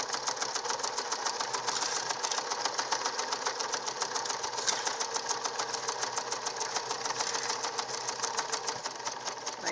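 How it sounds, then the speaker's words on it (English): A sewing machine stitches a seam straight across a fabric nose enclosure, a fast steady mechanical rattle of needle strokes that runs close and unbroken from start to finish. "I'm going to sew a seam all the way across."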